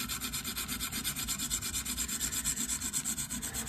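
An AUS 10 steel blade is rhythmically stroked across a 140 grit diamond stone on a KME sharpener, giving a close, steady, gritty rasping in quick repeated passes with no talk.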